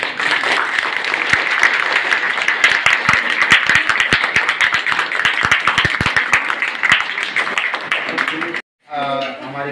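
Audience applause at a drip-irrigation horticulture project workshop, several seconds of loud, dense clapping from a seated crowd that cuts off abruptly, followed by a brief voice speaking.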